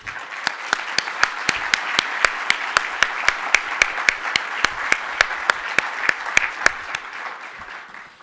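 Audience applause for a speaker at a World Usability Day talk, dense and steady with sharp individual claps standing out, continuous for about seven seconds before tapering off.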